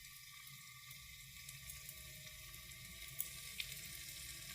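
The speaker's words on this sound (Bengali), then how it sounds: "রসুনটা একটু লাল লাল ভাজা হয়ে গেলে তারপর বাঁধাকপি দেব।" Garlic frying in oil in a pan gives a faint, steady sizzling hiss with a couple of brief soft pops near the end, with no talking.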